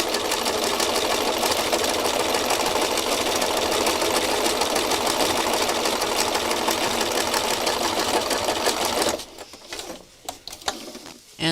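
A machine embroidery stitching cotton variegated thread runs steadily and loud for about nine seconds, then stops, leaving a few faint clicks and handling noises.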